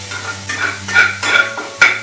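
Onions and garlic sizzle and fry in a pan while a utensil stirs and scrapes in short, repeated strokes nearby.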